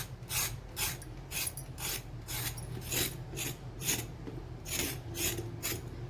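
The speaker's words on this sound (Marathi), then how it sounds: "आता आपण याच्या वरच्या शिरा आहे का ते काढू आणि कापून घेऊ।" Ridge gourds (dodka) are scraped to remove their ridges in a home kitchen, a quiet rhythmic series of rasping strokes, about a dozen evenly paced scrapes, with no talking.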